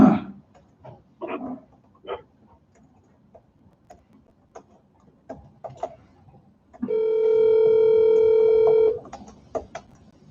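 A telephone on speakerphone at a regular meeting clicks through a few faint dialing taps, then a loud, steady dial tone holds for about two seconds before cutting off, with soft clicks around it.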